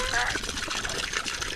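Warm water poured and trickling out for farm animals in the snow, a steady liquid splash with talking over it.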